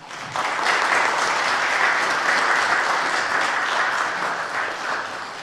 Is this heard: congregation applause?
yes